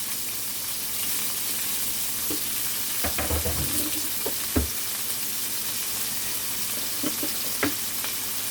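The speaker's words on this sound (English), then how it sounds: "we're gonna put in the green onions," Green onions sauté in a stainless steel pot with a soft, steady sizzle, interrupted by several clanks and scrapes of a utensil against the metal.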